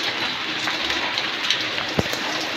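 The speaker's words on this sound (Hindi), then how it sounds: "कितनी तेज बारिश हो रही है" Heavy monsoon rain in Karachi pours down in a steady dense hiss, with drops pattering on nearby surfaces and an occasional sharper splat.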